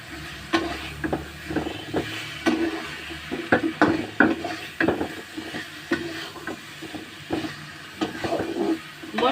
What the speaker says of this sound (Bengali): মাছ দিয়ে ভালোভাবে কষাই নিব।